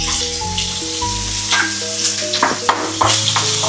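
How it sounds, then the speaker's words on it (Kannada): Fenugreek seeds and red Byadagi chilies sizzle and fry steadily in hot oil, with a few stirring scrapes and crackles rising over the continuous frying hiss, close and fairly loud, no voices. "ಮೆಂತೆಕಾಳು, ಕೆಂಪು ಬ್ಯಾಡಿಗೆ ಮೆಣಸನ್ನು ಹಾಕ್ತಾರೆ ನೋಡಿ."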